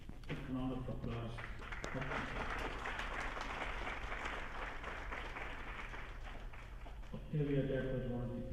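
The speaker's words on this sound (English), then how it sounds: "Well, take a round of applause." Audience applause at a 150th birth centenary celebration for Sister Nivedita, a steady wash of clapping from a crowd for several seconds, with voices speaking over it near the end.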